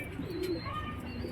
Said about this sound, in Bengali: এটা ডিগবাজি পায়রা